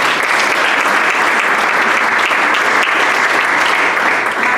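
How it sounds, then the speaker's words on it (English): A room full of people at a Rotary Club meeting applauds a speaker, with loud, dense and close clapping that stays continuous throughout. "I think you deserve another round of applause."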